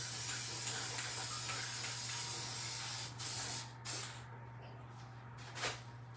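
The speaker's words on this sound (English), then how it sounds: "Let me go spray this by the window." A spray can hisses as an object, a Dollar Tree cake pan for a homemade hanging scale, is sprayed by a window; quiet, steady hiss over a low hum, with a few short sharper bursts near the end.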